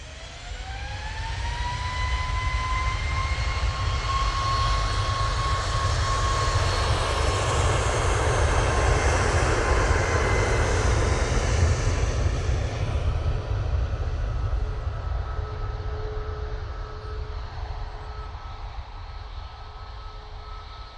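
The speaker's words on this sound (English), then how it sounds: "TUI 737 MAX." TUI Boeing 737 MAX jet departing Manchester Airport, rising turbine whine over deep rumbling roar that swells close then trails off as it climbs away, loud and alone.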